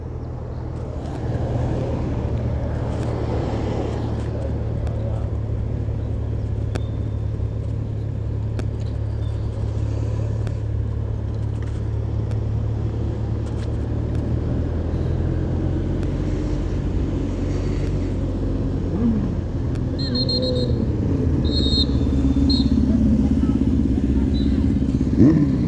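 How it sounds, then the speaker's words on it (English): Steady rumble of highway traffic passing, heard from a bicycle during a women's cross-country cycling race, with engine drone constant throughout and a vehicle passing near the end. "A lot of traffic here on the highway."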